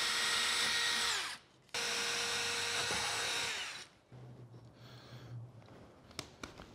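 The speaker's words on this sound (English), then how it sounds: "we're picking the right spots to drill our holes" A power drill bores holes for a floating table built with fishing line, whirring loudly in two long bursts, then quieter scraping and a few sharp taps.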